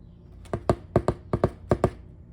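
A cockatiel knocks or taps on a surface: three quick pairs of sharp, close taps in an even rhythm, with nothing else audible between them.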